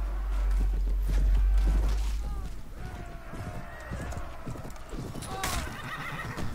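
Horses in a medieval battle in the Mount & Blade Warband game whinny loudly over steady, busy hoofbeats that clip-clop throughout, with background combat noise.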